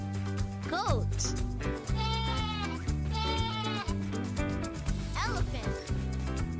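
A goat bleats in several quavering calls set against steady background music, with a voice speaking in between.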